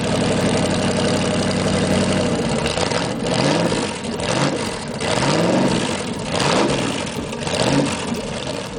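A Boss Hoss motorcycle's 8.3-liter 502 cubic inch big block V8 runs loud and close, a dense steady roar with rhythmic surges as the throttle is blipped over the idle.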